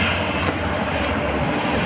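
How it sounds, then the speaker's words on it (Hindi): A metro train pulls into Laxmi Nagar metro station, a loud, continuous rumble and rolling roar filling the whole moment without a break. "मैं आपको दिखा दूँ, लक्ष्मी नगर मेट्रो स्टेशन आ गया है"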